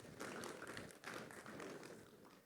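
Audience clapping in a conference hall at a technology innovation event: a soft, scattered patter of applause from many hands, steady and fairly distant for the whole stretch.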